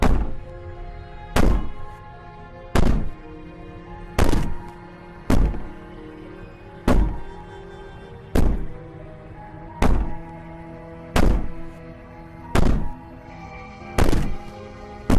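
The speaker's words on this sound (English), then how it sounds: "Maybe the banging and wailing will stop if you just don't pay attention to her." In the game Slay the Princess, the princess bangs on a door: about eleven heavy, booming thuds at a slow, even pace, each followed by a short ringing decay, with no speech.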